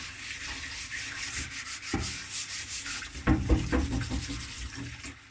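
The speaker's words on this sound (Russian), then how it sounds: "наносим любое моющее средство и моем как обычную доску" A decoupage cutting board scrubbed with dish detergent, a steady close rubbing and scouring with brief knocks and a brisker burst of strokes near the end, no talking.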